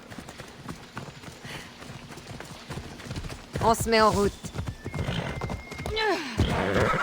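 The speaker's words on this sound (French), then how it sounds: "Allez, mon petit cheval." Horse hooves clip-clop at a steady trot in the Assassin's Creed Odyssey game, joined by a whinny and ambient game sounds while someone talks over the top.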